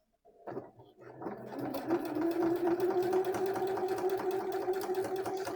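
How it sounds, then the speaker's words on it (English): A sewing machine stitches an automatic buttonhole. After a brief click it starts up and settles into a steady, rapid mechanical whir with a faint rhythmic clatter, close by and with no voices. "now simply press the foot on the machine and see the buttonhole sew together"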